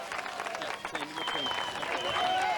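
Spectators at a mountain bike cross-country World Cup race applaud and clap steadily at a distance, a soft continuous patter with crowd voices and calls mixed in.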